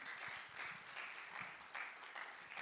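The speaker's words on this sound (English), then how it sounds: "Give a clap offering to Jesus." A church congregation clapping during a Sunday service, a brief burst of steady, fairly faint applause heard from a distance with no talk.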